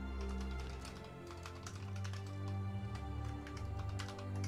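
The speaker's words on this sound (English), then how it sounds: "you can hear that keyboard? Mechanical." Typing on a mechanical keyboard, a run of quick irregular clicky keystrokes close to the mic, heard under steady background music.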